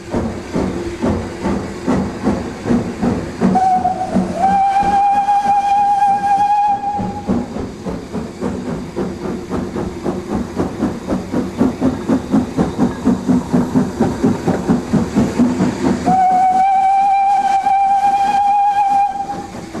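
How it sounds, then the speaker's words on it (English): A steam train leaving Bolton Street Station enters the 80-yard Bolton Street tunnel, its rhythmic chuffing and hiss loud and close, with two sustained steam whistle blasts sounding partway through and again near the end. "Leaving Bolton Street Station, the train immediately enters the 80-yard Bolton Street tunnel"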